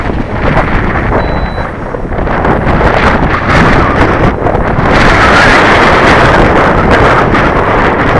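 Strong outdoor wind buffets the microphone while a radio-control model aircraft is flown, a loud continuous roaring rumble that surges slightly partway through, with no voices.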